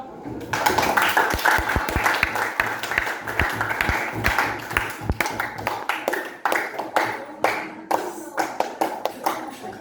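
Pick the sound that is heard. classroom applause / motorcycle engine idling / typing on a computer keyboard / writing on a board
classroom applause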